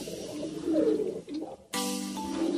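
Domestic pigeons cooing nearby in soft, rolling, repeated coos, with a brief pause and then another bird call joining in.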